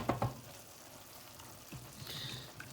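Stock poured into a hot pan for an Asian low-carb soup stew, giving a soft steady sizzle with a couple of louder splashy bursts at the start and a brief hiss late on.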